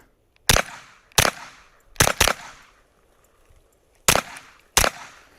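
Six sharp suppressed shots from a KelTec SDP gas blowback pistol at a shooting range crack out close and loud, spaced irregularly with a quick double near the middle, each decaying quickly into quiet.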